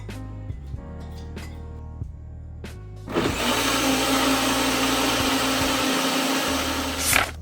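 An electric blender whirs loudly as it blends roti batter, switching on abruptly after a few quiet taps and running at a steady high roar for several seconds before cutting off.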